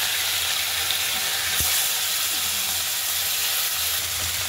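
Small rohu fish frying in a pan, spiced and cooked dry, with a loud, steady, hissing sizzle throughout and one brief knock partway through.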